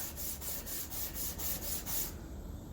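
Wood being hand-sanded with fine 320 grit sandpaper: about eight quick, rhythmic rubbing strokes, close and fairly soft, stopping abruptly near the end.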